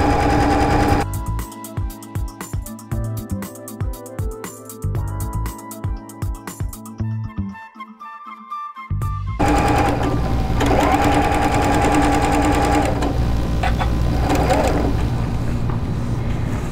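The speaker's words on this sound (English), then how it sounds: "I'm just going to start sewing." A sewing machine stitches a quilt border in bursts of rapid, close needle hammering, pauses briefly, then runs again in a long steady whir.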